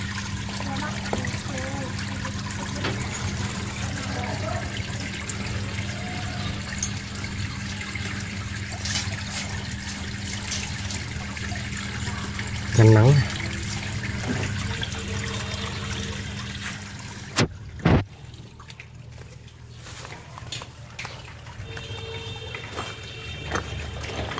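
Water trickles steadily through the filter stream of a semi-natural koi pond, a continuous close splashing flow with a few brief knocks and no break in the sound.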